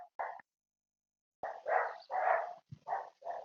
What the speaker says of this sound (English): I apologize for the background barking.